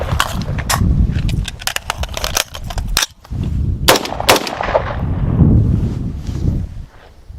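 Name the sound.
rifle gunfire with emergency reload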